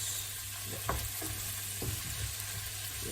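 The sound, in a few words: stirring shallots frying in a pan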